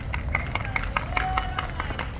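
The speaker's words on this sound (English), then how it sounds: "give the Lord a clap offering tonight" Church congregation clapping during a worship service, a steady burst of many hands close together with rhythmic peaks over a low crowd murmur and a faint sustained tone.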